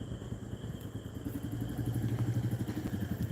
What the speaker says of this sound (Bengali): অটোর হর্ন দিয়ে বাইক যাচ্ছে